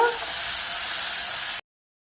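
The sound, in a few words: spice masala being sautéed in a pan for chicken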